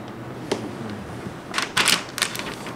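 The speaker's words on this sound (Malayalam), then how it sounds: "നമുക്ക് ആദ്യം അൺബോക്സ് ചെയ്യാം" Cardboard packaging of an Asus ROG Strix G17 gaming laptop being opened and handled: a single sharp tap, then a cluster of quick, close scraping and rustling bursts, with a quiet pause between them.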